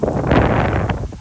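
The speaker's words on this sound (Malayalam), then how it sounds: "കാറ്റ് കാറ്റ് കാറ്റ്" Strong wind buffets the microphone in a loud, rumbling rush on the forested Kuriyottu hill, steady for the whole moment with no voices.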